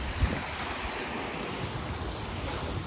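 Mediterranean Sea surf washing onto the beach at Barcelona, a steady broadband wash of waves with wind noise on the microphone, close and continuous for a few seconds with no talk.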